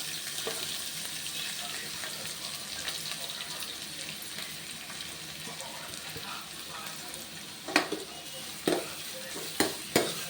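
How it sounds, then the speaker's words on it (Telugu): Sliced onions fry in a pan for palak paneer, giving a soft, steady sizzle under faint background noise, with a few sharp clinks of a spoon stirring toward the end. "ఉల్లిపాయలు బాగా బ్రౌన్ కలర్ వచ్చేలాగా వేయించుకోవాలి."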